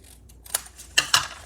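Scissors snipping off the edge of a paper card panel, a few quick close crisp cuts, the last two louder and closer together.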